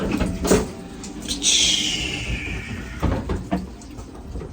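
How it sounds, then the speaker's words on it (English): A toilet cubicle door in a public restroom is opened with a single drawn-out creaking squeal that slides downward, between a few soft knocks and clicks of handling at close range. "Open the door."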